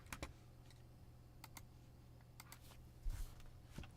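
Someone types a web search on a computer keyboard: a few quiet, close key clicks spread irregularly over a few seconds, with a slightly louder cluster near the end and a soft background hum.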